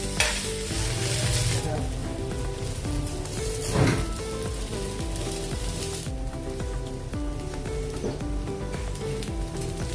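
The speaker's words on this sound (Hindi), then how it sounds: "अभी ऐसे साइड से भी हम इसको थोड़ा सा तलेंगे" Steady loud sizzling of suji chana dal snack frying in oil in a pan, with a continuous crackling hiss and occasional stirring scrapes throughout, close up and alone.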